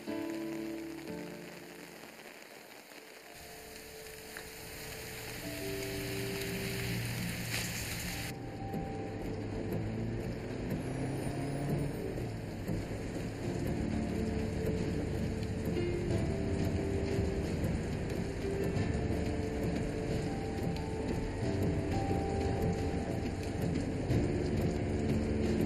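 Steady heavy rain pours on surfaces through a storm, a dense continuous wash with low rumbling thunder underneath and a swelling roll partway through, no voices.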